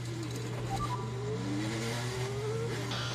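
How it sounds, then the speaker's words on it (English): Onboard sound from a 2021 Formula 1 car: the engine's tone climbs and shifts through gear changes under a constant low hum, heard at a moderate distance with no speech. "the sound of the F1 car still gets me"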